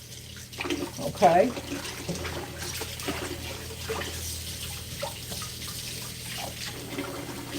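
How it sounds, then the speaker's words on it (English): Lettuce is washed in a basin of salt water, with running and splashing water throughout, a louder swish of handling near the start, and someone talking briefly over it. "So again, I'm just washing it in salt water, making sure there's no bugs or any dirt on it."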